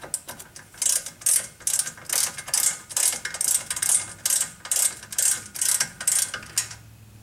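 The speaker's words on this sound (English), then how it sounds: "We'll just barely snug down one side, then we'll snug down the other" A hand ratchet snugs down rear brake bolts on a 2005 Chrysler Town & Country. Quick, close clicking comes in a dozen or so short rhythmic bursts, each stroke a crisp run of clicks, then stops.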